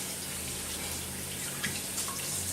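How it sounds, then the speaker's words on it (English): Running tap water while hands are washed in a home kitchen during cooking, a steady close hiss of flowing water with faint splashes and small bumps, short and continuous without talk. "Alright, wash my hands again."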